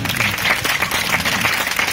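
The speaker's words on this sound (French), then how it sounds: "Encore des applaudissements pour Mathieu" An audience applauds loudly and steadily at a stage fencing demonstration, a dense wash of clapping hands filling the room.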